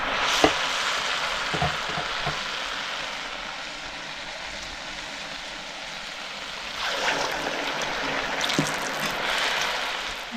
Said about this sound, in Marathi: आणि गॅस फास्टच करायचा आणि आपण हे वडे तळून घ्यायचे.